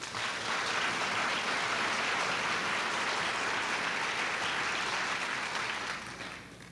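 Audience applauding at an awards ceremony, a sustained, dense burst of clapping from a large crowd that holds steady and then begins to taper at the end.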